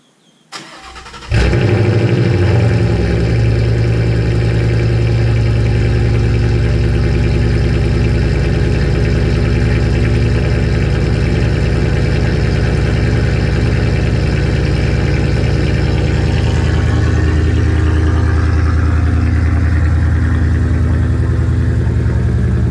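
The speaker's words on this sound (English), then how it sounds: "Here's a cold start." A Ford Mustang GT V8 cold starts with a quick crank and catch, then settles into a loud, steady, deep rumbling idle heard up close for about twenty seconds.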